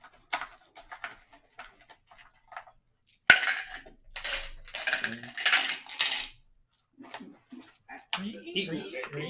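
Dice clatter and skitter across a table during a tabletop roleplaying session, in bursts of bright clicking, rattling hits separated by brief pauses, with more dice clinking together toward the end.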